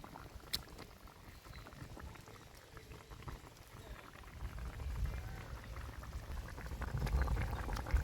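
Fish curry simmering in a covered pot, a soft continuous bubbling and low rumble that grows slightly louder and fuller toward the end, with no voices.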